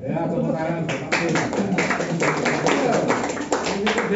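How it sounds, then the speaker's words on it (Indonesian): A congregation at a Sunday service at GBIS Kapernaum Surabaya claps in a run of scattered, sharp hand claps that grows denser, under a voice talking over a sound system. "Tepuk tangan."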